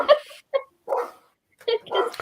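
A female dog barks in several short, sharp bursts outdoors, closely spaced and fairly near, with some yipping quality between them.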